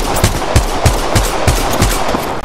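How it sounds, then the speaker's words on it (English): Rapid gunfire in the mobile game Apex Legends Mobile, a burst of about eight evenly spaced, loud shots in quick succession with no talking. "Shots fired at me."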